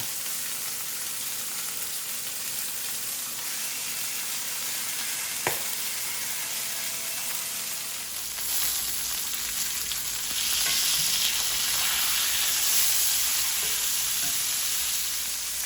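Steaks for Steak Marsala frying in a pan, seasoned with ground black pepper; a steady close sizzle that swells louder partway through, with no talk.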